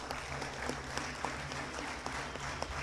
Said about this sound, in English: Give all these guys one more round of applause.